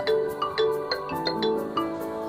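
A mobile phone rings for an incoming call on a drama set, a repeating electronic ringtone melody in short bursts, fairly clear and close with no talk over it.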